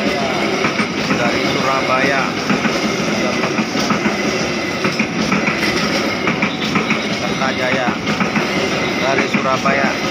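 A train rolls past at Gang Sentiong station in Jakarta, a loud, close, continuous rumble with rhythmic clickety-clack of wheels over rail joints and faint squeals, while someone talks under the noise.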